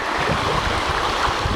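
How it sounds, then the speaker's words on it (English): A brook flows near a house and a small bridge, its steady broadband rush of water filling the scene at close range without a break, with no voices. "Up that way, the brook."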